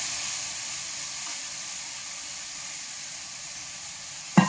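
Chopped ponnanganni spinach sizzles softly in a frying pan as it is stirred for a thoran, a steady low hiss with a single sharp clack near the end and no voices.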